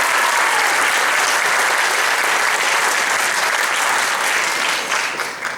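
An evening school concert audience bursts into loud, close applause for a teacher, a thick continuous roar of many hands that holds steady and then begins to thin toward the end.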